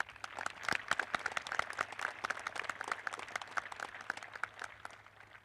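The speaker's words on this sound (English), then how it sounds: "Let's give them a round of applause" Audience applause for high school graduates at a Boonsboro graduation ceremony, a steady patter of many hands clapping at moderate, distant level, gradually thinning toward the end.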